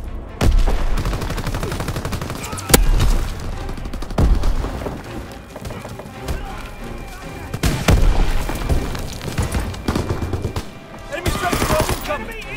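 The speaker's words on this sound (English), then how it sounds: "Tossing grenade!" A Call of Duty WWII battle rages with dense bursts of rifle and machine-gun fire, several heavy booms from grenade blasts cutting through, loud and continuous with shouted voices mixed underneath.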